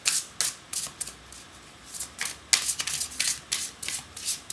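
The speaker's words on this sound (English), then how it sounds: "A weird shuffle" Oracle cards being shuffled in quick riffling bursts, several rapid bridging flutters close by with brief pauses between them.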